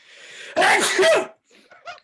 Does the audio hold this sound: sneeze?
yes